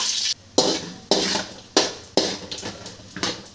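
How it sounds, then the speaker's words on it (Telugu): Semolina with chopped cashews is fried and stirred in a pan for ravva laddu, producing a run of rhythmic scraping, stirring strokes about every half second, close and fairly loud with soft frying noise between them. "ఇప్పుడు కలర్ బ్రౌన్ కలర్ వచ్చేంత వరకు వేయించుకోవాలండి"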